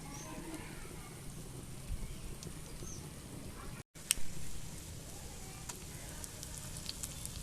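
Flattened egg and sugar fritters fry in hot oil over low heat, giving a steady soft sizzle throughout with a brief dropout midway, then crackling resumes.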